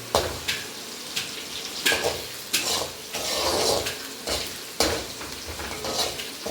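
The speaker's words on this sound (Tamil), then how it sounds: "எண்ணெய் ஊற்றி வெங்காயம்லாம் போட்டாச்சு" Onions fry in oil for a chicken curry while a spoon scrapes and turns them, producing a rhythmic series of close stirring strokes over a continuous sizzle.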